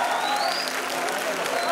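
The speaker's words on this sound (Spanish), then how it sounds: "Un fuerte aplauso, por favor." Auditorium audience applause greeting a speaker, a short, steady burst of many hands clapping at moderate volume.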